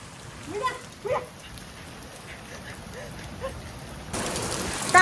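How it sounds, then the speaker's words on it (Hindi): Steady rain pours down with a constant hiss that grows heavier toward the end. Voices talk and exclaim over it. "ऊपर है कितनी जोर जोर से बारिश"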